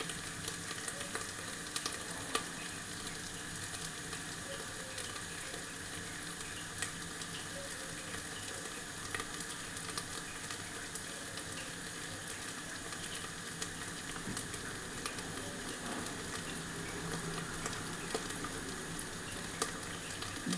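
Onions frying in a pan for a homemade tomato sabzi, a steady soft sizzle with faint stirring that carries on without a break and with no talking.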